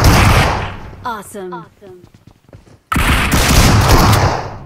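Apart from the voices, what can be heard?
gunfire in BGMI video game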